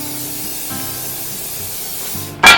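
After a quiet stretch with faint hum, a short close burst of aerosol cooking oil spray hisses loudly for about a second.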